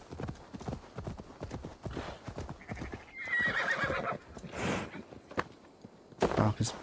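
A horse in the Assassin's Creed Valhalla video game neighs loudly, and its hooves clip-clop in a steady rhythm around the call. No one speaks over it.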